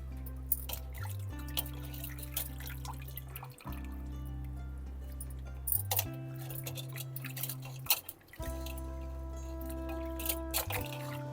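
Water dripping and trickling as washed small fish are squeezed out by hand for a fish curry, soft close splashes and drips recurring over a steady low hum, with faint handling clinks.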